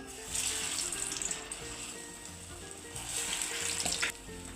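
Steady sizzling and bubbling of urad dal vadai frying in hot oil, continuous and close, with occasional louder crackles and no talking.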